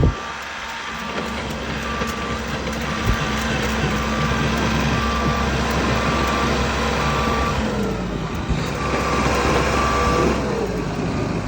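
A delivery truck bringing building material struggles up a steep hill north of Fairbanks, its engine droning loud and steady with a tonal whine for the whole stretch, the load rising and straining near the end as it keeps trying to climb.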